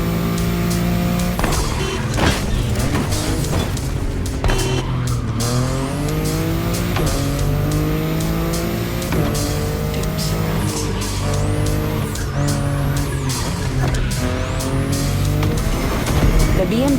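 A BMW i8 in The Crew Motorfest racing game revs hard through its gears, with repeated rising engine sweeps and tire squeals, loud and close, and a voice speaking over parts of it.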